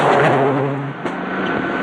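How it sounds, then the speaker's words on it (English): A rally car running a tarmac stage at the Tour de Corse, its engine droning loud and close with a steady pitch that dips and shifts around the midpoint, as if changing gear, and no voices. "Grönholm safely negotiates the stage, and his teammate Gilles Panizzi also makes a cautious start on his favorite surface."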